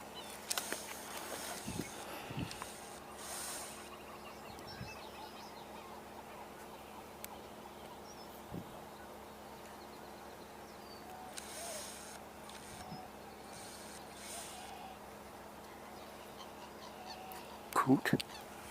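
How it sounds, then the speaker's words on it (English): Common gallinules call out on a marsh with honking, chattering cries that sound like monkeys, scattered through a long stretch at moderate distance, with a louder burst near the end over steady outdoor background noise. "The birds that sound like monkeys out there, those are the common gallinules that you're hearing."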